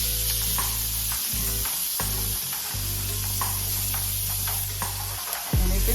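Salmon fillets sizzle in a frying pan just after being flipped, a loud continuous hiss and crackle close up, with a low hum dropping in and out and a brief clatter near the end.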